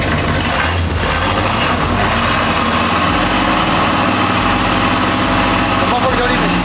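A supercharged Mazda RX7 rotary engine idles loudly and steadily up close with a choppy low-end pulse, while people talk over it.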